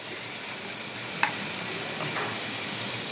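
Tomatoes and red chili powder fry with chicken in a pan for a chicken and bottle gourd curry, giving a steady, close, moderately loud sizzle with a single sharp utensil clink early on and faint stirring scrapes.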